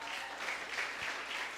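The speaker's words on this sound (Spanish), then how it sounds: "Dele un aplauso al Señor." A church congregation claps together in a steady, soft wash of applause, heard faintly and briefly without any voices.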